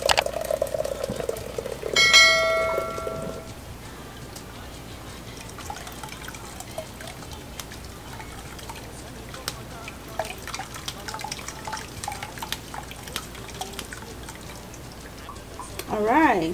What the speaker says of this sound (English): I'm going to be sieving it.